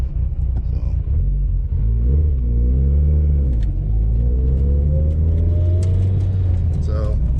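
A big-turbo Mitsubishi Evo with a twin-disc clutch cruising on the road, its engine droning low and rising in pitch as it accelerates through the gears, a steady close rumble throughout.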